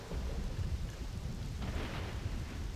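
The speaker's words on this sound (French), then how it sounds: "Oh, il y a de l'orage, ça pète," A thunderstorm inside the online game Black Desert Online, with steady rain and low rumbling thunder and a brighter crack swelling midway, continuous and fairly loud with no voices.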